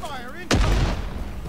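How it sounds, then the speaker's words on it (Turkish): A grenade explodes in Rising Storm 2: Vietnam as a single loud, close blast, then rumbles and decays over about a second. Just before the blast, a short voice and a tonal sweep can be heard. "Bomba geldi sana."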